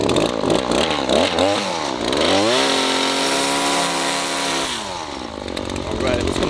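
A string trimmer edging along a sidewalk, its engine whining up and down in pitch as it revs and then holds a high steady drone, loud and close, with a voice heard briefly.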